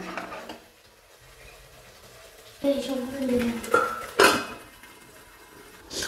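A metal lid clanks onto a cooking pan of Bengali tangra fish with green chillies, two sharp clinks standing out over quiet kitchen clatter and brief low voices.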